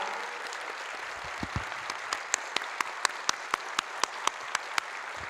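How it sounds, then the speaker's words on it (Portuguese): An audience at an indigenous rights discussion applauds: scattered clapping over room noise at first, then a string of crisp, evenly spaced claps rings out moderately close. "Vamos aplaudir, gente, a queda do, da tese do marco temporal."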